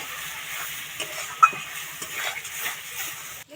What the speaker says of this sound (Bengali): এবার সব মশলাগুলো খুব ভালো করে কষিয়ে নেব।